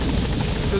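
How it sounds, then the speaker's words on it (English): Helicopter rotor and engine noise from a PS4 video game, a steady, loud, dense whir holding throughout, with voices talking over it. "helicopter"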